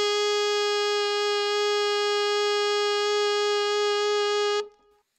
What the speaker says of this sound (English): And then you get the middle F, and that sounds like this.